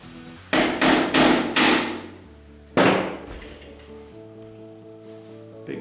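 A hammer taps a fin shank screw into a wooden pinball playfield: four sharp strikes in quick succession, a pause, then one more hit, each ringing briefly, close and loud with no talk.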